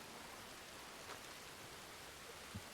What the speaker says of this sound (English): I just want to make sure that you can hear me adequately with the rain and everything